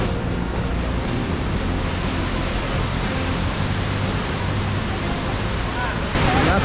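The Kegon waterfall at Nikko, dropping 97 metres, roars as a steady, dense wash of falling water heard from a viewing spot, unbroken throughout.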